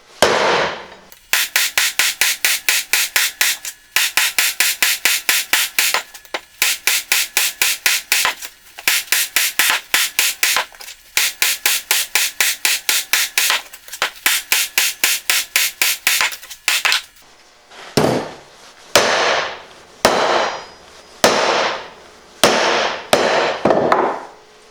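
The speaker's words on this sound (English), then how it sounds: "as you pound on it, it curves it over" A hammer pounds a metal fender support bracket for an old Honda quad, bending it cold. Rapid bursts of ringing, sharp strikes are followed by a few slower, heavier blows, close and loud, with no talk.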